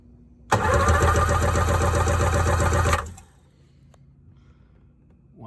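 A cheap used Sea Doo engine cranks over steadily for about two and a half seconds with the throttle wide open during a compression test, a loud rhythmic churning that stops abruptly into quiet.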